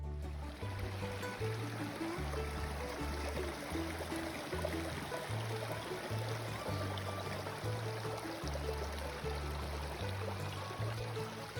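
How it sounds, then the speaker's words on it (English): Water from a waterfall pours into a blue mountain lake, a steady broadband rush with trickling and splashing, continuous and moderately distant with no talk. "See that? Top of the waterfall. All the way to the lake."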